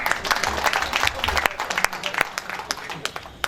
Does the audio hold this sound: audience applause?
yes